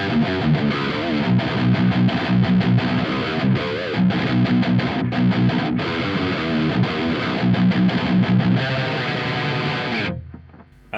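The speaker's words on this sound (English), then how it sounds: "So this is the high gain lead channel with the contour engaged." Electric guitar played through the high gain lead channel of an ENGL E530 preamp with contour engaged, no tube screamer or reverb, driving a Peavey 6505 power amp: loud, saturated distorted riffing with chugging palm-muted rhythm, cutting off near the end.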